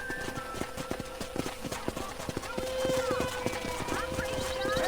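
Steady hooves clip-clop at a walking pace near a corral in Red Dead Redemption, a horse snorts and whinnies, with a constant hum and game ambience underneath.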